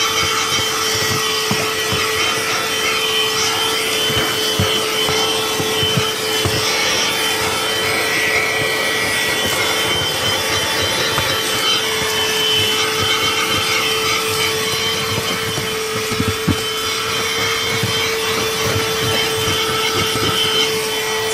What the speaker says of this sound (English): So you're gonna vacuum first.